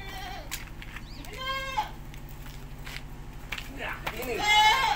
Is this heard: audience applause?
no